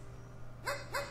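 A puppy in the video game Ctrl Alt Ego lets out two short, bright yips in quick succession, clear over a quiet background hum.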